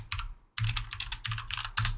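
Typing on a computer keyboard, a dense run of quick clicking keystrokes close by, broken by one brief pause, with no voices.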